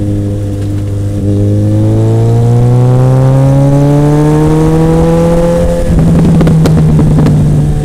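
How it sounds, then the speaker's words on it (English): Motorcycle with its muffler removed, running loud and close: a raw, throaty engine revving up in a long rising pull, then dropping back and climbing again with sharp crackles toward the end. "that's the sound of a muffler being off"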